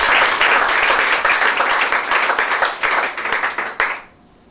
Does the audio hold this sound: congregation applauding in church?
yes